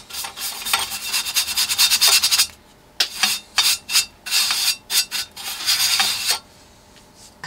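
A brush sweeps dust off an old speaker in a 1942 Ducati radiogram, giving close, soft rasping strokes in quick bursts with short pauses between them.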